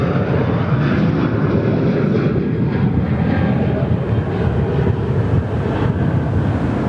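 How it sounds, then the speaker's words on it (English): Qantas Boeing 737 taking off from runway 21 at Perth Airport, a loud broad steady jet roar close by, slowly shifting in tone as it passes, with no talk. "Just one burning past the camera now off runway 21."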